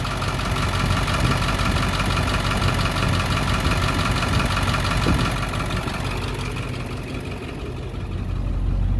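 A school bus engine that sat unused since 2020 runs at a loud, steady idle, a rough, low diesel-like rumble with a faint knocking texture that eases slightly near the end, with no talking.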